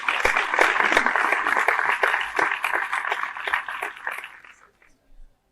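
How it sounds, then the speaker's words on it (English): Applause from an audience at a Tagore speech event, a dense steady wash of many hands clapping that holds loud for several seconds before thinning out and fading near the end. "a big round of applause for Mr. Utpal Chatterjee."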